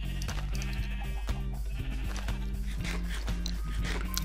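Sheep in Minecraft bleat repeatedly while being sheared, the blocky game calls recurring in a steady rhythm over constant background music.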